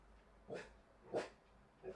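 A small dog barks three times at roughly even intervals, each a short yappy burst, moderately close over a quiet room background.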